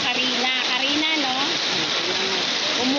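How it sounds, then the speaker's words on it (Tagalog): Steady rain pours down during a flood in Barangay Santa Lucia, a constant loud hiss filling the scene while someone talks continuously over it. "Umuulan pa."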